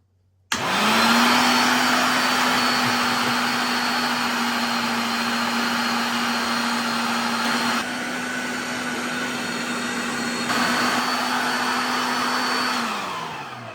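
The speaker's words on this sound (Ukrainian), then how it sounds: "Починаємо наше м'ясо перекручувати на м'ясорубку" An electric meat grinder minces meat for cutlets in a home kitchen, switching on with a steady, loud, close motor whine that runs evenly for about twelve seconds before winding down.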